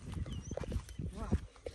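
A female donkey's hooves clip-clop on the ground as it walks, producing several close, uneven knocks mixed with people talking nearby.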